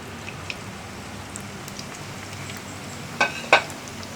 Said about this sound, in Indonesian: Lalu kita menggoreng adonan kembali ya sampai habis.